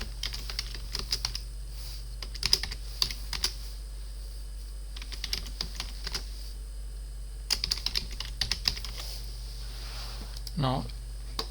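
Keys tapped on a computer keyboard while writing in a word processor, coming in bursts of quick clicks separated by pauses, close and moderately quiet over a low steady hum.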